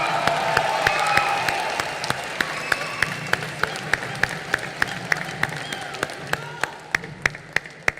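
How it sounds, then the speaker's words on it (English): A crowd at the closing ceremony of the 53rd International Film Festival of India in Goa applauds for Chiranjeevi, with a broad wash of clapping and cheering that tapers off as sharp percussive beats and loud music continue. "Round of applause for Chiranjeevi sir."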